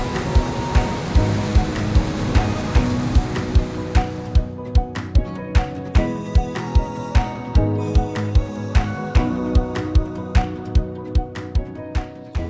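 Ocean waves wash and surge steadily at the shore, a loud continuous rush with regular rhythmic thumps running underneath and no speech.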